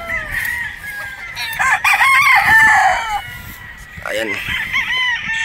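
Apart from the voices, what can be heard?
pikum gamefowl stag, rooster clucking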